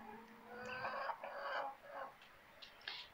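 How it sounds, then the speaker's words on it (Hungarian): A bearded rooster clucks nearby in a few short, clear bursts with brief pauses between them, and no one speaks over it. "Ő ilyen szakállas tyúk. Nem tyúk, hanem kakas."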